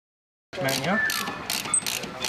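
A torque wrench ratchets as it tightens an aircraft engine mount on a U-2 during maintenance at Beale Air Force Base, sounding as a close, rapid run of mechanical clicks after a brief silence.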